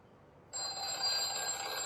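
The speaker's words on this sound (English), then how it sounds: "Oh, the phone's ringing." A telephone starts ringing abruptly after a moment of near-silence, a bright, continuous electronic trill that stays steady and fairly clear to the end.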